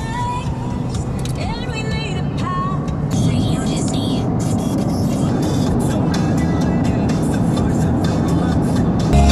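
A car cruising along the Pacific Coast Highway heading south, with steady road and engine rumble, wind noise and traffic passing throughout, under continuous loud outdoor ambience.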